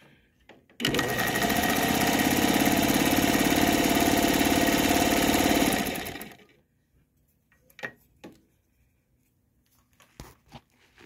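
A Singer 101 sewing machine runs steadily for about five seconds with a loud, even motor whir and rapid stitching chatter, then stops, followed by a few faint clicks and handling sounds.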